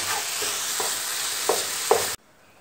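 Cabbage fries in a pan with a steady, close sizzle and a few soft stirring scrapes, cutting off abruptly near the end.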